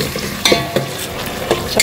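Chopped coriander and mint tossed into a hot frying pan and stirred, with steady sizzling and several sharp scraping strokes of a spatula against the pan, close and alone.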